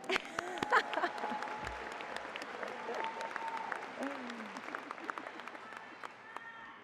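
Applause and cheering from a graduation audience at the UNC School of Education, moderately distant clapping with scattered whoops and voices mixed in, fading slightly toward the end.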